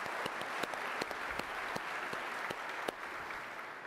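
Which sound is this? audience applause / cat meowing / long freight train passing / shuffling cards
audience applause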